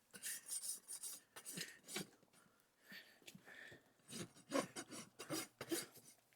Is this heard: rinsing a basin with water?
no